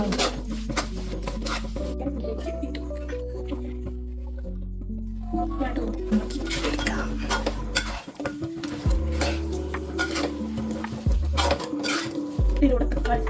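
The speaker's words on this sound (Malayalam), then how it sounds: "എന്നിട്ട് നല്ലോണം ഇളക്കാം." A spoon stirs chicken curry with turmeric in a metal pan, giving repeated scraping and clinking against the pan under a steady low hum, with a faint sizzle; close and fairly loud.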